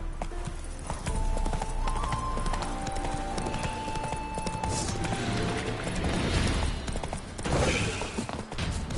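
Roach the horse gallops in The Witcher 3, with rhythmic hoof clip-clops over game ambience and occasional snorts, fairly close and continuous with no speech.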